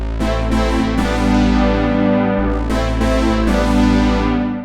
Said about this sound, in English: a small room reverb can also be a really good way to just add some thickness to your sound